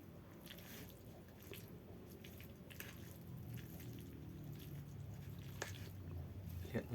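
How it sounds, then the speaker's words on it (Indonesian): Seasoning stirred into tteokbokki rice cakes and noodles, with soft wet squishing and sticky dripping sounds close to the microphone, quiet and steady with a few small clinks. "Ini langsung kita aduk bumbu-bumbunya ya."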